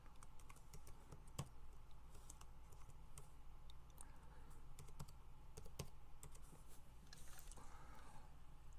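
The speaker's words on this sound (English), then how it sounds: "Typing in." Steady typing on a computer keyboard with scattered clicks and key taps over a low background hum, fairly faint and with no talking.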